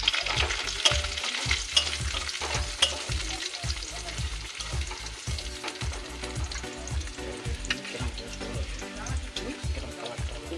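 Steady sizzling of chopped ginger and garlic frying in oil in a wok, with repeated scraping stirs in a loose rhythm throughout; close and fairly loud, no talking.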